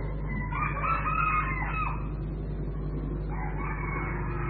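A rooster crows twice nearby, the long cock-a-doodle calls standing out over a steady low hum, with a pause between the two crows.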